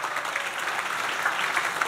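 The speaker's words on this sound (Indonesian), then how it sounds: "tepuk tangan dong buat kakak-kakak panitia" An audience claps for the organizing committee at a student orientation event, with steady, dense applause throughout and no speech over it.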